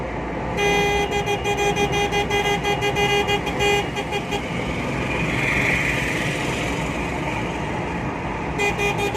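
An ambulance drives along with its horn honking in rapid repeated bursts, loud and close, pausing briefly before blaring again over steady engine and traffic noise.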